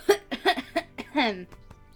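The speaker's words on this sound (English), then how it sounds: "Eleanor regains her voice in a fit of violent coughing" Eleanor, a character in the video game Twin Saga, coughs violently: several sharp, rapid bursts followed by a strained, voiced rasp, close and fairly loud.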